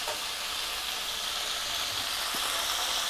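Tomatoes cook in oil in a pan for tomato pachadi, giving a steady, soft sizzle and hiss throughout, with no voices.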